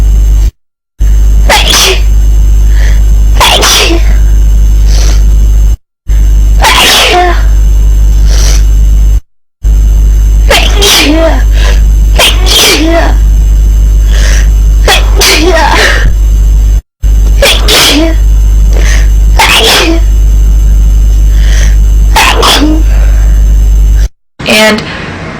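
A person sneezing loudly and close up, one forceful sneeze after another in a rapid series of about seven bursts, with brief gaps of silence between some of them.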